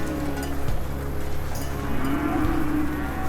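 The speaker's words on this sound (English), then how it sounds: "The next morning the tape is taken down and the cattle moved out once again." Cattle low and moo repeatedly while being moved out along a highway on a cattle drive, with a steady outdoor rumble beneath the calls; no talking.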